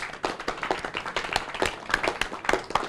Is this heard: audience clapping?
yes